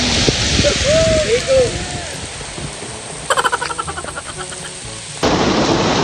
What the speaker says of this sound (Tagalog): Kami po ay basang-basa ng ulan. Lakas nga naman.